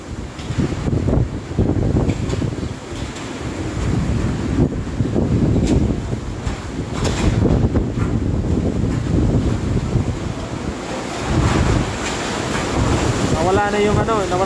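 Strong typhoon wind during Super Typhoon Goni in the Philippines roars and buffets the microphone in loud, continuous, surging gusts, with occasional rattles and clatter and a faint voice in the mix.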